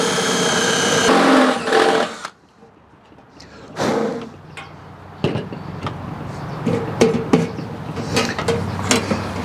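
A drill bores holes through the thin metal bottom of a mailbox being modified into a cold smoker with a pellet tray, giving a loud steady whine that breaks off, then several shorter bursts of grinding and clanking follow up close.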